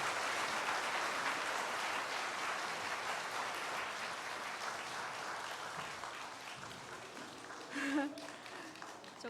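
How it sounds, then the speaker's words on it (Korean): Audience applause welcoming a guest to the stage at a church testimony event, a steady sustained roar of clapping from a large crowd that swells briefly near the end. "여러분 뜨거운 박수로 환영해 주시기 바랍니다."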